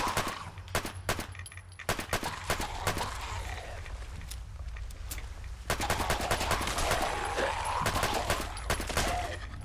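Gunfire from a weapon in Fallout London, heard as dense bursts of rapid shots in two clusters with a short lull between, loud and close, with no talk over it.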